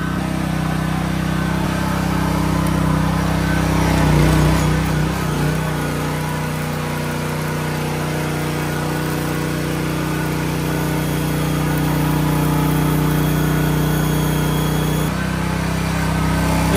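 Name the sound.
PK2300i gasoline welding generator engine started with recoil start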